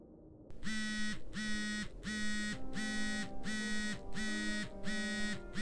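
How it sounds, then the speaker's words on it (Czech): Phone alarm sound effect in a horror story: a loud buzzing tone pulsing in eight evenly spaced bursts, each with a low droning hum beneath, close and alone. "Oliverův telefon vibroval pod polštářem."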